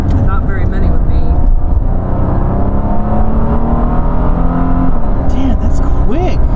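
A 1989 Chevrolet Corsica engine pulls hard under acceleration, a loud, steady droning roar heard from inside the car, with voices chattering toward the end.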